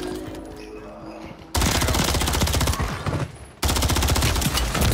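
Heavy automatic gunfire in Warzone 3, a dense, loud sustained burst after a quieter opening, cutting off briefly then resuming at full intensity.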